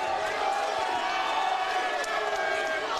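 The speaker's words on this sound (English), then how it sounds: "Holy Cross is cheering quite loudly behind and all around us" A dense crowd roars and cheers steadily all around a high school wrestling match between Holy Cross and Jesuit, loud and continuous, with a commentator talking over it.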